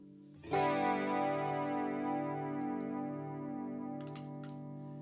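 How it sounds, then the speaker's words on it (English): An electric guitar chord rings out through a chorus effect pedal, its tone gently swirling and wavering as it sustains, with a couple of light clicks near the end. "And then this makes the chorus sound."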